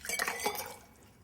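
Water is dumped out of a glass while a margarita is being made, giving a brief splashing pour with light clinks that fades quickly.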